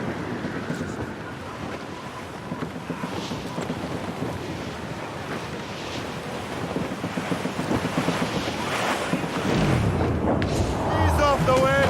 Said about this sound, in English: That storm could be dangerous.